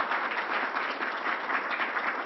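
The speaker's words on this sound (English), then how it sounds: "let's give a round of applause to our County Executive Bello" An audience at a government COVID briefing gives steady, continuous applause for a county executive, a dense wash of clapping with no break.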